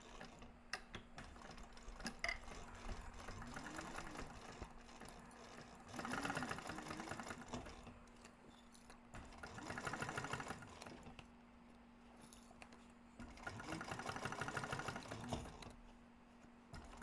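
A sewing machine top stitches a seam on a crossbody bag, running in short bursts of quick whirring stitching separated by pauses, fairly quiet and close, with faint handling noises between runs.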